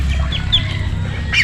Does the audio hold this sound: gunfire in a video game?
no